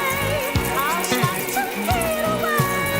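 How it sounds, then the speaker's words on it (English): Water from a tap splashes over a large sweet potato as it is washed in a kitchen, a close, steady trickle and spatter with a person speaking over it. "Just want to give it a wash."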